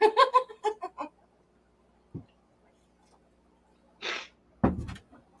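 A human voice mimics a chicken with a quick run of clucking, squawking bursts up close, followed by a pause, a faint knock and two more short, breathy squawks.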